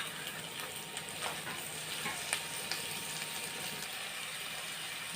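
Raw prawns frying in a pan with browned onions and ginger garlic paste give a steady, quiet sizzle with faint crackles and a few scrapes of stirring, heard alone without talk.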